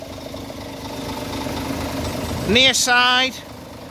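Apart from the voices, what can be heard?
Scania Euro 6 bus engine idling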